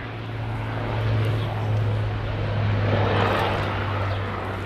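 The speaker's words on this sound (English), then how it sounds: "Helicopter in the background." A helicopter flies steadily in the background at an outdoor pool, a continuous low engine and rotor drone holding evenly throughout with broadband wash above it and no talk.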